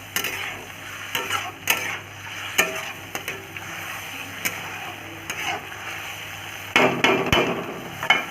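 Pepper chicken with soy sauce being stirred in a pan, dhaba style: repeated utensil scrapes and knocks against the pan over a low background sizzle. A louder burst of stirring comes near the end. No one speaks.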